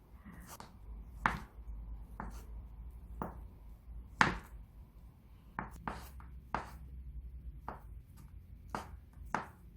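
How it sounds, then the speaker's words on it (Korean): A knife finely chops ham or Spam into strips on a cutting board, with a dozen or so sharp, uneven taps at close range, each knock clear against a quiet background. "채썰어 주세요. 쫑쫑 썰어줍니다."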